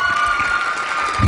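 Applause at the Miss Fashion awards gala as a winner is announced, a steady wash of clapping throughout with a low thump near the end.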